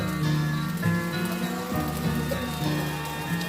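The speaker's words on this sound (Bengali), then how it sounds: "কাল থেকেই আবার শুরু হয়েছে ঝমঝমিয়ে বৃষ্টি" Heavy rain falls steadily and densely on surfaces, a constant close wash of drops with no pauses and no voices.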